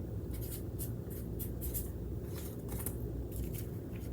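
A pen writes on a paper envelope, giving quiet, scratchy strokes in short bursts over a faint steady background hum, with no voice.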